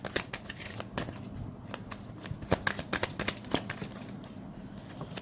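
Tarot cards being shuffled during a reading: a close, crisp run of rapid riffling and flicking card sounds in uneven bursts, fairly quiet and with no voices.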